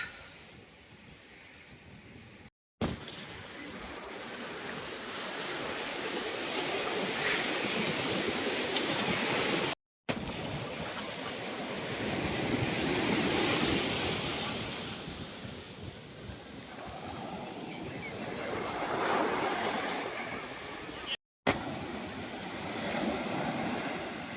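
Ocean waves roll in continuously at Besant Nagar beach in Chennai, a broad steady surf roar with heavy wind buffeting the microphone, no voices, broken by a few brief cuts.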